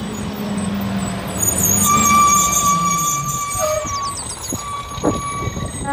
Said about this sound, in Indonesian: Wadidaw, ternyata ini truk sampah.